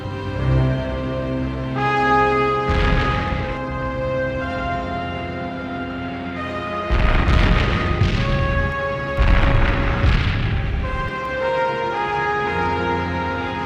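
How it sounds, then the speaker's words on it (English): Heavy artillery barrage during the German siege of Warsaw, with repeated deep booming explosions and rumbling bursts layered over a continuous loud background, several strong blasts clustered near the middle. "The Germans surrounded Warsaw and pounded the city with endless artillery barrages."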